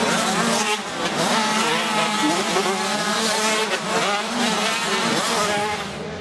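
Race cars roar past one after another at a racetrack, engines loud and continuous with rising and falling pitch as each passes close by.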